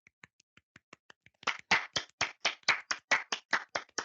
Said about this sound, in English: I know clapping doesn't really work on podcasts